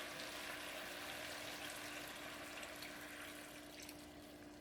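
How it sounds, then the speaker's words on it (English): Water pours steadily into a pan holding mushrooms with oil and oyster sauce, a continuous close splashing wash that lasts throughout and fades slightly toward the end, with no talk over it. "put some water in it."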